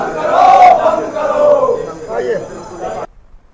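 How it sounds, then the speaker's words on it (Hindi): Protest crowd chanting "murdabad" slogans, a loud massed roar of many voices in rhythmic bursts, close and continuous for about three seconds before cutting off abruptly. "कितना मुर्दाबाद कर रहा है"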